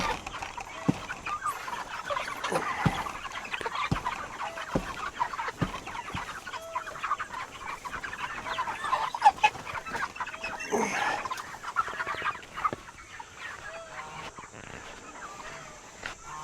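Geese on a homestead call throughout in a busy, overlapping chorus of honks and clucks at moderate distance, with a steady outdoor background.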